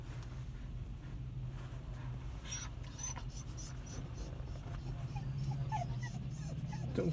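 A husky puppy at the vet whimpers and gives faint high cries in a few brief bursts over a low background hum.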